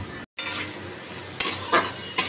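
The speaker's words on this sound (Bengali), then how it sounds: "তো ভালো করে ভেজে নিই, একটু লাল করি" Fish browning in a home kitchen pan during a Bengali lunch, a steady low sizzle broken by a brief silence and three sharp bursts of spatter or stirring clatter.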